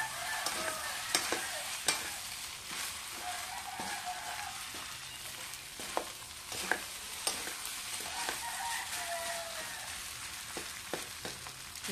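Egg fried rice frying in a pan, with a steady close sizzle throughout and repeated scraping and clinking of a utensil as the rice is stirred.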